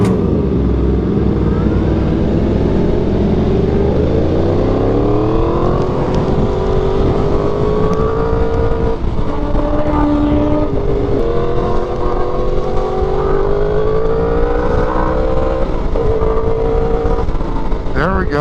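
Yamaha R1M sport motorcycle ridden hard with engine revs rising and falling through gear changes, loud and close over steady wind roar, while a rider talks throughout.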